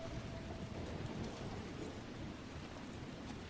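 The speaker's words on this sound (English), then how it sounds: "With all the rain." Steady, dense rainfall with a low rumble of thunder beneath it in the rainy, gloomy Crestwood area of the video game Dragon Age Inquisition, a continuous ambient wash with no speech.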